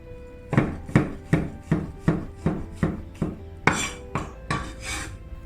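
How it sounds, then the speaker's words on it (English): A knife chops coarsely through garlic and ginger on a board, with about ten crisp, evenly spaced thuds close by, the last few heavier and more scraping. "coarsely chopped some garlic and ginger slices."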